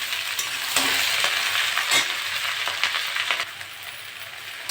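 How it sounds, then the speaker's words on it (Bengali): Okra and potatoes hit hot oil with fried cumin and dried red chili, giving a loud, steady sizzle and hiss with intermittent spatula scrapes and clicks while being stirred, no speech. "নেড়ে চেড়ে নেবো"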